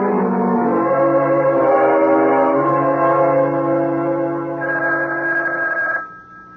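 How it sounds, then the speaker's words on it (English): A telephone rings in a late-night radio drama scene, its bell trilling loud and steady for about six seconds before stopping, with no voices over it. "It's the phone, Gil. Can't you hear it?"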